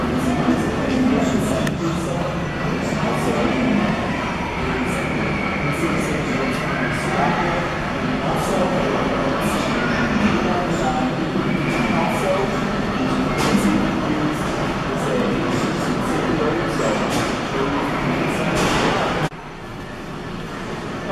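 Train sound effects play in a locomotive simulator cab at Kansas City Union Station: a steady, loud rolling rumble with clicking rail noise and occasional sharp clanks, cutting off abruptly near the end.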